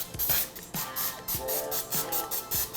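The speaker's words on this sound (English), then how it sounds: "Now I'm gonna line this with just a little bit of parchment paper and spray this" Cooking spray hisses onto a parchment-lined baking pan for cacao brownies, in quick repeated close bursts with scraping handling sounds between them.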